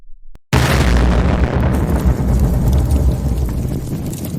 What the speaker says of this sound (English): In the split second before the explosion, I threw Mohib as far as I could